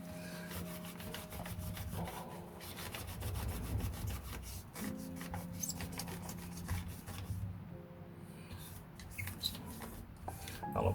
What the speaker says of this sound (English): You can hear it squeaking because it's scraping against the muck and crap.